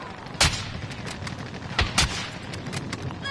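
Distant gunfire from a PS5 shooter match, a few sharp separated shots ringing out over steady background noise, no talking.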